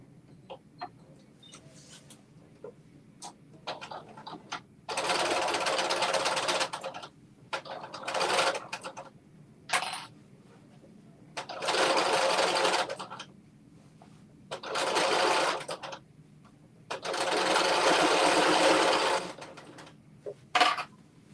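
A sewing machine stitches an infinity wrap dress in six or so distinct bursts of rapid needle clatter, each lasting one to two seconds, separated by quiet pauses with faint handling clicks.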